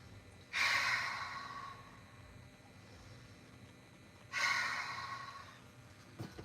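Slow, audible breaths during a gentle yoga pose, two long airy exhales about four seconds apart, close and soft, each fading out gradually against a quiet background.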